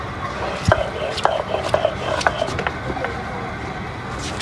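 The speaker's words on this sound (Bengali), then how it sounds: "শিল ফাটার মধ্যে হচ্ছে মরিচ বেটে ভর্তা বানাচ্ছে।" Chilies ground by hand on a stone grinding slab (shil-pata) for bharta, a repeated rubbing and knocking of stone on stone in an irregular rhythm, close and moderately loud, with voices murmuring underneath.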